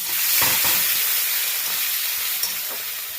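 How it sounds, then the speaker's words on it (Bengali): Ginger and tomato hitting hot oil in a pan over a tempering of fried spices, a loud steady broadband sizzle with a few soft stirring scrapes, heard alone without talk. "এবার আমি আদা আর টমেটোটা দিয়ে দেবো। ভালো করে কষিয়ে নেব,"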